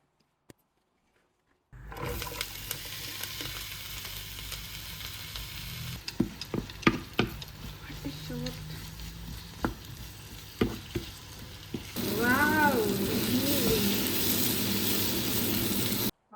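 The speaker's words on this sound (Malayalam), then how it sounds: "അപ്പോൾ ഇവനെ നമുക്കൊന്ന് വേവിച്ചെടുക്കാം" Chicken, tomatoes, chillies and coriander cook in a pan, a loud close sizzle starting after a short silence, broken by clinks and scrapes of stirring, then swelling into a fuller, brighter hiss toward the end.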